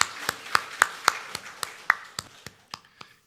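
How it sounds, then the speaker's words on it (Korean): Church congregation clapping, heard as a slow run of about a dozen separate, crisp claps spaced roughly a quarter second apart, fading toward the end. "하나님께 영광의 박수 드립니다"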